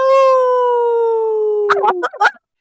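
A person imitates a dog-like howl, a long sustained falling tone held for nearly two seconds, then breaks into a few short rising and falling 'ow' yelps, loud and close.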